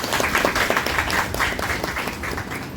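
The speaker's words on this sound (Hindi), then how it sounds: "जोरदार तालियों से स्वागत कीजिए।" Applause from a gathered audience at an in-service teacher training program on competency-based education, welcoming the chief guests; steady, dense clapping fills the room for a few seconds without voices.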